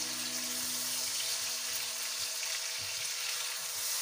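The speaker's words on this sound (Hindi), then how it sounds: "अब रखूंगी थोड़ी देर ताकि ये फ्राई हो जाए" Vegetables and rice fry in oil in a pan, giving a continuous bright sizzle with faint stirring clicks and scrapes underneath, steady and close.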